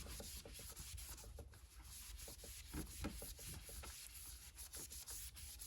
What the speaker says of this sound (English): Let's see what happens when I rub over this section.